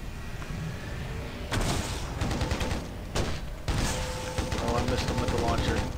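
Rapid weapon fire and explosive booms from a launcher and guns in Halo: Custom Edition, loud dense bursts starting after a quieter opening, with a short gap, then sustained firing with mechanical clatter.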